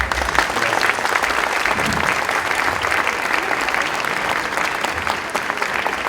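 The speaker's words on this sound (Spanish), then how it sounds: "Un gran aplauso." Big, sustained applause from a university conference audience in a hall, loud and steady throughout with no break.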